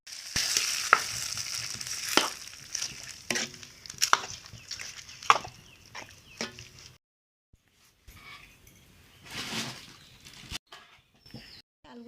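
Bay leaf and panch phoron spices tempering in hot oil, a soft crackling sizzle punctuated by sharp spattering pops and stirring clinks, close and quiet, fading to a lower hiss partway through.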